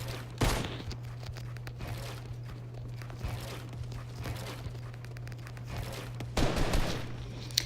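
Gunfire in Fortnite while shooting targets in an edit course: bursts of shots with a loud volley near the start and another toward the end, over a steady low hum and light footstep-like movement.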